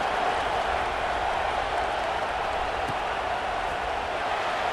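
Stadium crowd at a college football game in College Football 26, a steady, broad murmur of a large audience at moderate volume with no distinct cheers, holding unchanged throughout.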